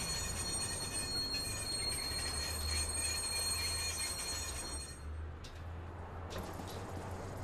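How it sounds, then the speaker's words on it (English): Train arriving at a station in the Watch Dogs video game, a continuous low rumble of rolling rail cars with high metallic wheel squeal over it, steady and fairly loud before easing slightly near the end. "Northbound train arriving shortly."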